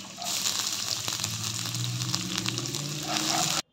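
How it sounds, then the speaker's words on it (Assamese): Loud, continuous sizzling of finely chopped onions frying in hot oil in a wok, crackling steadily before stopping abruptly. "আনফালে কেৰাহীখনত মই এতিয়া মিহি মিহিকৈ কাটি লোৱা পিঁয়াজখিনি দি দিছোঁ"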